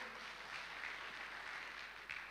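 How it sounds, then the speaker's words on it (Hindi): Faint, steady applause from an audience at a direct-selling business talk, a continuous wash of clapping with no voices over it. "जोड़ा तालियां हो जाए इसके लिए।"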